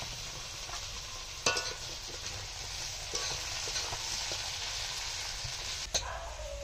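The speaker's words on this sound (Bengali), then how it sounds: "এখন দিয়ে দেবো কেটে রাখা টমেটো" Chopped tomatoes go into frying onions in a home kitchen, producing a low steady sizzle under a background hum, with a few sharp clacks and scrapes of stirring.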